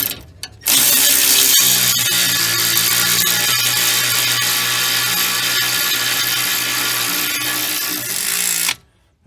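A power tool runs in one long continuous burst, tightening the nut on a front sway bar end-link of a Mercedes GLK X204, loud and close with a whirring, rattling drone lasting about eight seconds before cutting off.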